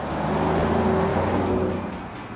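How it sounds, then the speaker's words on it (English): A Mercedes-Benz S63 AMG accelerates with its exhaust opened up wide, a loud steady engine roar and drone that swells and then eases off slightly toward the end. "when you put that foot to the floor, it opens up wide and gives you the full exhaust note"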